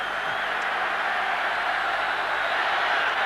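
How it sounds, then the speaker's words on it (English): Steady roar of an American football stadium crowd during a Raiders game, a continuous broad wash of many distant voices without pauses or distinct claps. "Listen to that crowd."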